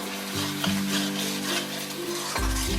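Bhetki fish masala sautéing with tomatoes and onions in a pan, giving a soft steady sizzle with occasional scrapes and clinks of a spatula against the metal.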